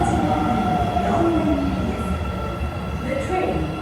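A subway train sits at a station platform in Osaka, with loud rumbling, hum and faint squeals close by, mixed with platform ambience and a brief announcement.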